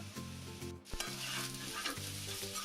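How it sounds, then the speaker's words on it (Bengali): Eggplant pieces fry lightly in hot oil, giving a steady crackling sizzle close by, with a few soft stirring knocks and no talking. "বেগুনটা এভাবে হালকা করে ভেজে নিচ্ছে"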